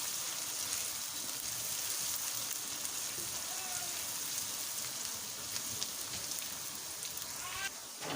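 Garlic ginger paste fries in oil with a soft, continuous crackling sizzle like light rain, steady and close for the whole stretch, with a faint stir near the end.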